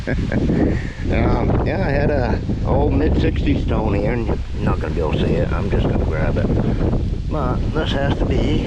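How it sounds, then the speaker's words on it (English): Heavy wind buffets the microphone continuously outdoors by the Piscataquis River in Maine, roaring under someone talking throughout. "sorry for the wind."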